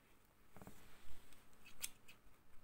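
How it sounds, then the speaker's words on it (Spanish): Scissors snip through the yarn threads of a hand-crocheted Wayuu bag with flowers: a quick pair of close, crisp cuts early on and another sharp snip later, in a quiet room. "y cortamos los hilos"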